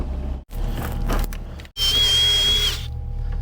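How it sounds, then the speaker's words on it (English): A regular power drill fitted with a long 3/8 bit bores into material on a gravel road build, two loud sustained runs split by short pauses, the second with a steady high whine. "All I've done is take my regular drill with a really long 3/8 bit."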